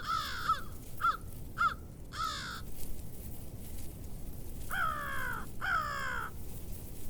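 Crows caw in Wisconsin around an open carcass left by rough-legged hawks, a quick series of short caws followed by two longer harsh calls, clear and moderately close against faint outdoor background.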